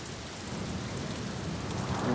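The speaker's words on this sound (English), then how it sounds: "I'm standing here in the rain" Steady rain falls and patters on surfaces at a New York City concrete construction site, a constant hiss of drops with no voices, growing slightly heavier toward the end.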